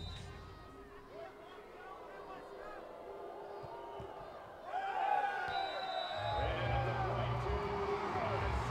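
Crowd noise rises from a steady murmur to louder cheering and shouting at a men's sitting volleyball semi-final between Brazil and Iran at Rio, with a commentator's voice running over it.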